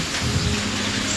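Steady rain falling outdoors near a sawmill, a dense even hiss with a low rumble, loud and unbroken throughout.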